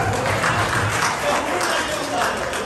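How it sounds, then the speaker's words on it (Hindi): A crowd applauds at an Eid Milan community event, with dense, continuous clapping filling the room at a loud, even level. "तालियां।"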